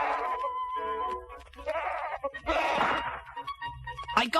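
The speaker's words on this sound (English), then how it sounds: "I found many wild goats." Wild goats on an island bleat several times in wavering, nasal cries, fairly close, with some rustling and a dull thump between calls.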